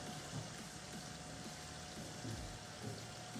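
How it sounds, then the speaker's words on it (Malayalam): Chicken popcorn pieces deep frying in hot oil make a steady, dense sizzling hiss with fine crackles throughout, close and continuous, with no talking. "ആ ചിക്കനാണിത് നമുക്ക് വറുത്ത് കോരാം"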